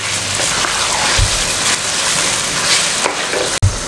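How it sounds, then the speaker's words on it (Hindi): Two kilos of chicken pieces fry in a handi pot, giving a loud, steady, close sizzle like heavy rain with occasional stirring clatter and a sharp knock near the end. "इसको फ्राई करना है तकरीबन 4 से 5 मिनट, ताकि अपना कलर चेंज कर ले चिकन"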